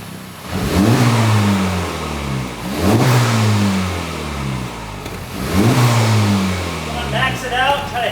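A Honda car engine in its sportiest R mode revs up to about 3,000 RPM three times in a row, each loud nearby rise climbing and falling back toward idle, with a brief voice near the end.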